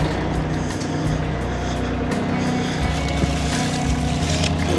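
Compact tractor engine running steadily at close range while carrying a planter on a large tool rack, a loud continuous rumble with no pauses and no talk.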